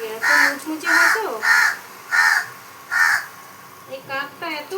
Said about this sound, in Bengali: এই কাকটা এত ডাকছে